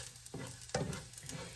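Onions sauteing in a pan for tofu fried rice, a soft steady sizzle broken by two brief stirring scrapes, fairly quiet and with no talking.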